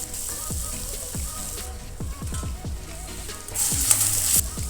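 Green chillies fry in hot oil in a pan for brinjal rice, a busy close sizzle full of quick spattering pops and bubbling bursts that grows louder toward the end.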